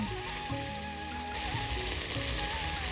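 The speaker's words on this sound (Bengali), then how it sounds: "মশলাটা বেশ সুন্দর করে কষিয়ে নিচ্ছি" Masala of dried red chili paste, salt and turmeric sautéing in a pan for methi chicken, giving a steady broadband sizzle that holds at an even level throughout, close and unbroken, with no talking.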